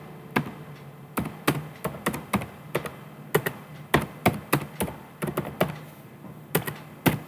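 Fingers type on a computer keyboard while entering resume qualifications in MS Word, a close series of crisp, irregular key taps and thunks in quick clusters with short pauses.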